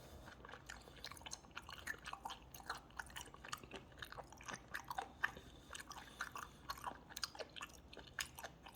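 Close, quiet chewing and slurping of instant yukgaejang noodles, with soft wet bites and crunches repeating steadily throughout and no talk.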